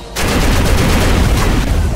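Plasma launchers firing together in the robot-building combat game Robocraft, a loud, dense, continuous roar of blasts that begins abruptly and sustains without a break.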